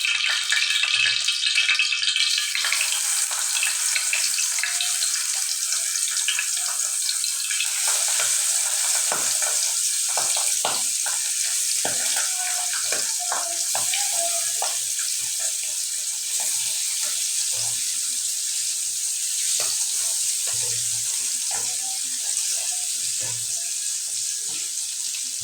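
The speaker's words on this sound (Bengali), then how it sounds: "মাছটা আমি ভালো মতো ভাজে দিব।" Pabda fish frying in a pan gives a continuous hissing sizzle throughout, bright and steady, with occasional clinks and stirring scrapes mixed in.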